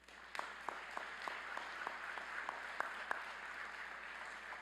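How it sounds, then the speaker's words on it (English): Audience at a university spring commencement ceremony clapping, a faint, distant spatter of applause with a few distinct claps standing out along the way. "How about please giving them a big round of applause?"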